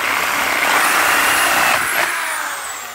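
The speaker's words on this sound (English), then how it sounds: "So drilling the hole is, I mean, these are really easy." Power drill boring holes in ABS or PVC plastic vent pipe of a direct-vent water heater, a loud, steady high whine that winds down near the end, close up.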